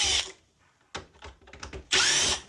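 A power drill backing screws out of a mini split air conditioner cover, with short whirring bursts and a longer loud run at the end, close up with no talk.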